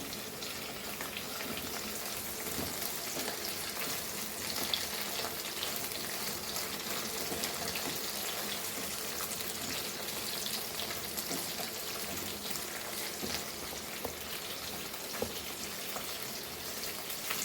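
Okra sautéing in a pan for a traditional Goan dish, a dense, steady sizzle and hiss that runs evenly throughout with occasional small pops.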